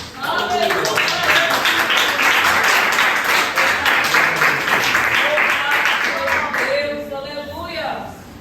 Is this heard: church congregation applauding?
yes